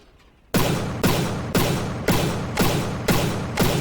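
A close-in gun battery in the naval combat game From the Depths fires at a steady, even rate, about seven heavy thudding shots roughly half a second apart, loud and close, with no voices.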